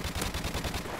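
Rapid automatic gunfire from a weapon in Modern Warfare Remastered, fired as a fast, evenly spaced burst of punchy shots that lasts about a second.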